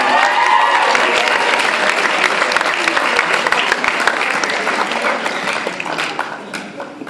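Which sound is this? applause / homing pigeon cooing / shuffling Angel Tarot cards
applause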